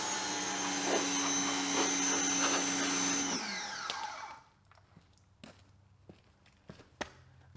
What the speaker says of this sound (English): we're gonna move on to pressure washing the entire vehicle off so that way we can get that dirt and grime off